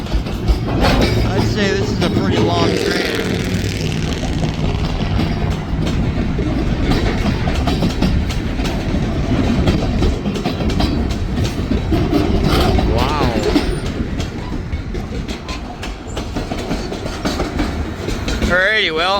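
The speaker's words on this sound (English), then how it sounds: "Yeah, I'd say this is a pretty long train." A very long freight train rolls steadily past close by, its rail cars keeping up a continuous loud clickety-clack over the joints, with a voice speaking briefly over the rumble.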